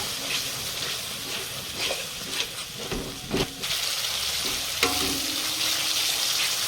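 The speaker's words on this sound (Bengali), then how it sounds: "একটু মশলার ধোয়া জল দিয়ে কষিয়ে নেব।" Spice masala sizzles and is stirred in a pan with a splash of water, for a prawn paste gravy with pointed gourd: steady close frying hiss with scraping stir strokes and a few clatters, no talk.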